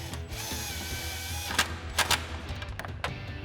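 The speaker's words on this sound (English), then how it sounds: "So now we can reinstall the 3 10mm screws down here at the bottom." Ratchet driving 10mm grille screws on a Sierra 1500, a few sharp clicks and ticks breaking through a steady mechanical hum, close and moderately loud.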